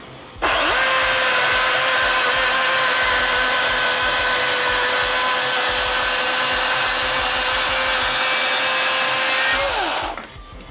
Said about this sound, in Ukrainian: перший різ я зроблю, щоб взагалі не давити на пилу, а просто поставлю її і попробую зробити різ